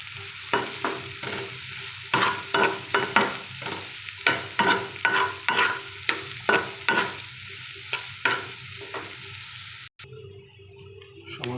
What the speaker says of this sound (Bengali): ডিম, পেঁয়াজ কুচি, রসুন কুচি, কাঁচামরিচ রেডি হয়ে গেল। এখন কড়াইতে দিয়ে দেবো ফ্রাই প্যানে।